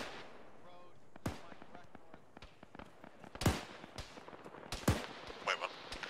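Bursts of gunfire in an Arma military video game battle, several sharp reports scattered irregularly over a steady background, with voices talking through it.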